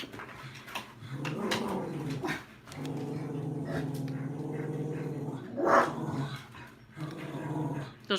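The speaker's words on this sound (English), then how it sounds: "There's two dogs out there fighting," Two dogs fight outdoors, with sustained snarling growls and sharp barks swelling and ebbing over several seconds, fairly close and loud, with a burst of yelping near the end.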